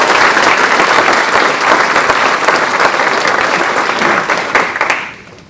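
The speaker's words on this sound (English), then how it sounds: "Let's give them a little round of applause." A crowd applauds at a foundation's fall grant celebration. The clapping is loud, dense and close, continues for about five seconds, then tapers off and fades near the end.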